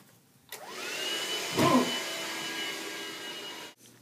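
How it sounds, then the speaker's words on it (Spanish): Vacuum cleaner switched on and running steadily indoors during household chores, a loud continuous motor whine with a brief surge partway through, then cut off near the end, with no talk. "Pasa la aspiradora. Ya, estoy pasándola."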